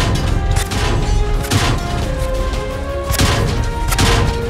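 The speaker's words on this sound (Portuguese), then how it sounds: "O som do dano mínimo é assim." Light tank hit effect from a video game signalling minimal damage: several short metallic impact bursts with crashing, thudding texture, fairly loud over a dense background rumble, no talking.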